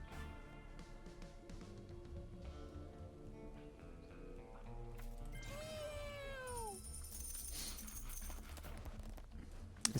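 Video game Mewgenics cats meowing, one clear drawn-out descending meow in the middle over steady game music, with fainter meows around it.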